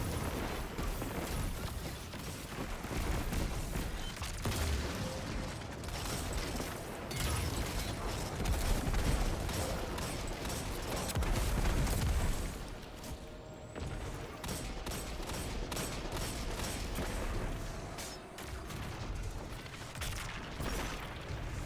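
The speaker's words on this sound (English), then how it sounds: "I can spam some rockets as well" Rockets fired repeatedly from a heavy launcher in the Destiny video game during a Grandmaster Nightfall, heard as dense, loud rolling blasts and explosions packed together in a continuous barrage before easing into lighter mechanical combat noise.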